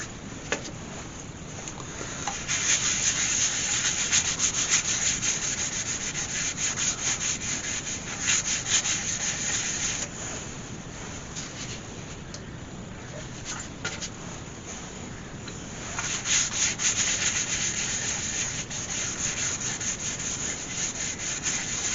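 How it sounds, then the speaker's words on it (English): Sanding sealer being rubbed onto a turned ash wood bowl on the lathe, a continuous close friction hiss in long stretches that fade briefly and return, with no talk. "we're now going to apply some sanding sealer"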